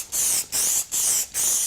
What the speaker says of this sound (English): You can spray Q30 straight onto the